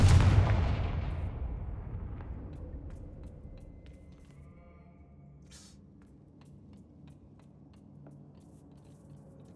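In Hogwarts Legacy, a Confringo blasting curse explodes with one sharp, heavy boom up close, followed by a long rumbling tail that fades slowly over several seconds.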